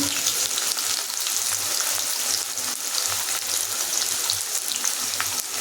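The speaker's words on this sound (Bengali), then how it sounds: "ফুলটার মধ্যে একটু জল ছিল তাই ফট করে আওয়াজ হচ্ছে" Potatoes fry in hot oil in a home kitchen, giving a loud, constant crackling sizzle with scattered sharp pops where water hits the oil. It carries on steadily without a pause.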